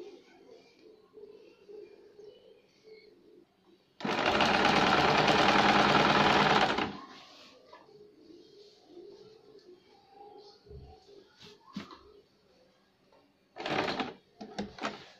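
A sewing machine stitching the shoulder seam of a baby girl's shirt runs in a loud, steady burst of about three seconds, then a short second burst, with quiet speech and handling noises between them.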